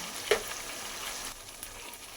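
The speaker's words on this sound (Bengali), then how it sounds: "দিয়ে ভালো করে মশলার সঙ্গে আলু পটল ও সোয়াবিন কষিয়ে নেব" Potato, pointed gourd and soybean chunks being stir-fried with spices, a soft steady sizzle with a brief clink of a utensil early on, close and fairly quiet.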